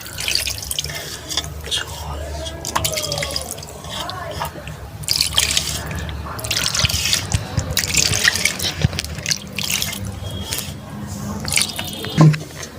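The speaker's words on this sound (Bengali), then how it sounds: "এবার আমি এখানে পানি দিয়ে দেবো।" Water poured into a cooking pot holding hand-mixed fish, a steady trickling and dripping pour running under kitchen background noise, with a sharp clink near the end.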